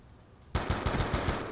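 FAL OSW rifle fire in Black Ops 2 on PC, a sudden rapid burst of about six loud, close shots after a quiet lead-in.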